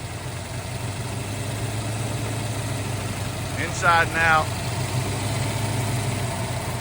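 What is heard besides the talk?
1970 Ford Mustang Boss 429 engine idling, solid lifters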